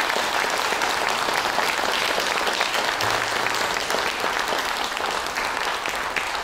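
Sustained audience applause fills the hall after a live theatre show with live music, dense and steady clapping from a large crowd throughout, without any talk.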